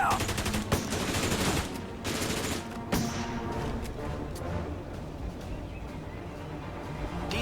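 Gunfire from the World War II strategy video game Blitzkrieg 3: dense bursts of rapid shots and booming reports rolling continuously over a busy battle din, with no voices.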